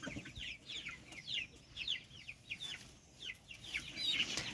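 Repeated soft, chirpy gobbling calls from Bourbon Red and Royal Palm turkeys nearby, coming in quick overlapping bursts over a quiet outdoor background.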